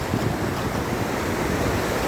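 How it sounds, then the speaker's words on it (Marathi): Sea waves wash on a Konkan beach, a continuous broad roar of surf with wind buffeting the microphone, close and steady with no voices. "पाण्याला लाटा बघा केवढ्या मोठमोठ्या आहेत"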